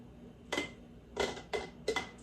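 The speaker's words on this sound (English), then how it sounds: "Now I'm going to start with my tongs to take these out, to take the cabbage out of the can." Metal tongs lifting canned cabbage out of a glass canning jar, four sharp clinks of metal against glass at uneven intervals, close and quiet in an otherwise still kitchen.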